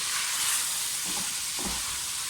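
Chicken pieces sizzle and fry in a karahi as yogurt goes in, a steady bright hiss with a couple of soft stirring scrapes near the end.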